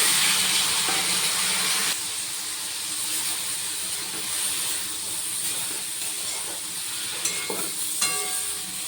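Water poured into a hot pan of potato, eggplant, bitter gourd, carrot and bean vegetables sets off a loud steaming hiss that drops sharply and settles into a quieter, continuous sizzle with occasional utensil clinks.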